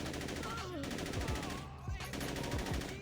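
Bursts of AK assault rifle fire in the video game Saints Row, several short volleys of sharp, loud shots spread across the moment with a continuous game soundscape underneath.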